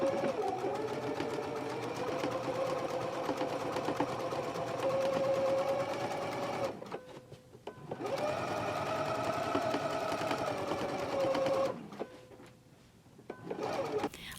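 A sewing machine stitches a skirt fly along a marked line, running steadily in two long bursts with brief pauses between them, close and clear without talk.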